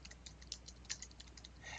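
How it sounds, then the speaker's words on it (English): Quiet typing on a computer keyboard, a run of light, irregular key clicks over a soft steady hum, close but faint. "If I start typing here"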